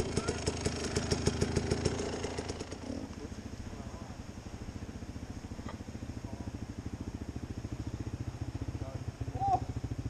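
A motorcycle engine idles and revs with a steady low throb while riding in the woods, rising briefly at first before settling into an even putter.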